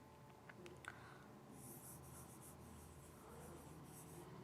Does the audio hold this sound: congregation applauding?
no